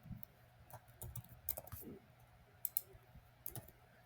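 Soft, irregular clicks of typing on a computer keyboard, a quiet cluster of keystrokes spread across a few seconds with some sharper taps near the end, over a low background hum.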